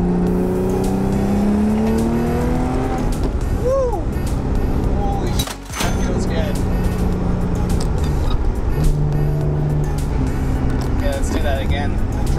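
Turbocharged Audi B5 S4 accelerating under boost, the engine note climbing and shifting repeatedly through gears with a brief lift in the middle, heard from inside the car while a person talks throughout.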